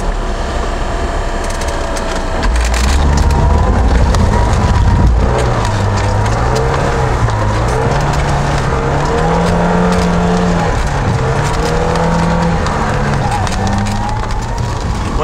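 An off-road vehicle fitted with snow chains grinds through snow in fifth low-range gear, its loud engine droning and rising and falling steadily nearby, with someone talking over it.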